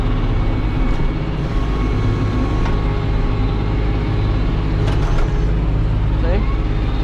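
A tractor pushes snow in a lower gear, its engine a continuous loud drone with steady rumble, heard close from the driver's seat alongside constant wind and scraping noise.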